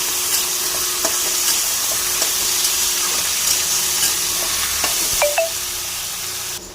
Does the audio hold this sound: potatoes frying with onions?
yes